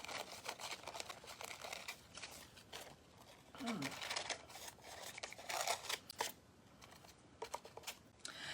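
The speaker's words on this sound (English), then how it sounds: "I'm going to go ahead and trim this part off with scissors" Scissors trimming the excess edge of a printed paper napkin on a Dollar Tree pallet sign craft, several short snipping cuts close by, with a voice talking over much of it.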